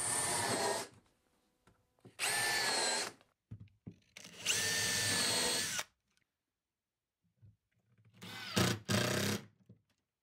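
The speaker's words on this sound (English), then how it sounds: "So I just need to screw this to the edge here" A power drill drives a screw into the edge of a wooden Hoosier cabinet during a tambour door repair, with three or four close, loud whirring bursts of a second or two each, separated by quiet pauses.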